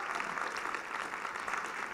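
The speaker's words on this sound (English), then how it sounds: "Let's give them a big round of applause." Quiet, steady applause from an audience at a magician's youth-assistance show, even and sustained, heard at some distance with no speech over it.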